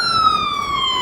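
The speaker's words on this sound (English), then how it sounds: "Ambulance" Loud ambulance siren on a Honolulu city street near Chinatown, a single sustained wail sliding slowly downward in pitch, close by, with faint traffic rumble underneath.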